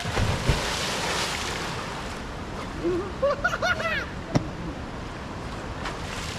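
A boat moving across open sea, with steady wind and wave noise throughout, brief voices mid-way and a sharp knock near the end.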